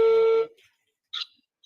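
A telephone ringback tone sounds while a call is being dialed: a single steady electronic ring lasting under half a second, followed by near silence and a brief faint click.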